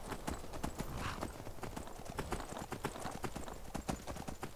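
Horse hooves clip-clop steadily as a horse is ridden in the video game Skyrim, a quick, even run of close, distinct hoof strikes with no voices over them.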